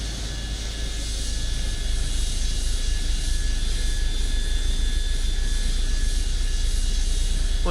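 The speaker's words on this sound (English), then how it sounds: "Starting engine number 2 now." Airliner engine number two spools up in Microsoft Flight Simulator, a steady loud whine and roar that swells slightly in the first seconds, then holds level as a constant drone, heard alone.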